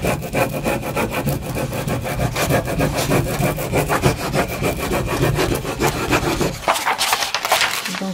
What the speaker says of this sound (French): Je vais gratter au fur et à mesure